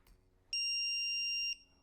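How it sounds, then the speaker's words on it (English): One steady electronic beep lasting about a second rings out loud and clear from a FireBot smoke alarm circuit board just after its battery connector is plugged in, over faint background hum. "You're going to hear one beep."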